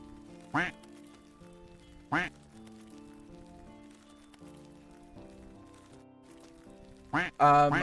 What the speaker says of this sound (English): If beak make contact, then duck make noise.